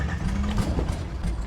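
A 1968 Chevrolet Corvette engine runs loud and close, a steady low rumble with no speech over it.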